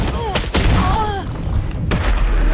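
In a Counter-Strike 2 match, a grenade blast and bursts of gunfire crack out in quick succession, with sharp loud impacts at the start and again near the end, while voices chatter excitedly over the game sounds.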